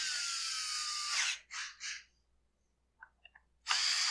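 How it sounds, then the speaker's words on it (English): Power-driven screws being run down to fasten a cover on a Husqvarna 372XP chainsaw, two short bursts of whirring followed by a pause, faint clicks, then another burst, close and fairly loud. "we get our Phillips screwdriver out and run this cover down"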